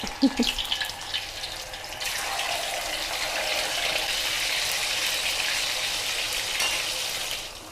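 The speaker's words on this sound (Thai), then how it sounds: "ลองหย่อนเต้าหู้ลงไปก่อนิดนึง เต้าหู้มันจะมีน้ำพอใส่ไปทีแรกมันจะกระดิ๊กกระดิ๊ก" Soft tofu dropped into hot oil in a wok over medium heat, a few sharp spatters at first giving way to a steady, loud sizzling hiss that carries on alone to the end.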